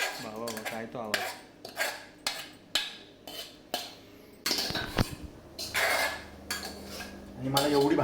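Dishes, pots and cutlery being washed at home, a run of repeated clattering clinks and scrapes in bursts, close and fairly loud, with no talking.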